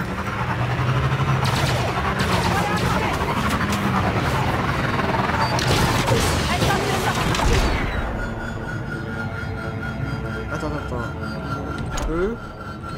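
Gunfire and blaster shots from the Star Wars Outlaws video game on Tatooine rattle in dense, loud bursts over engine rumble and game noise, then thin out into quieter game sounds, with speech at times underneath.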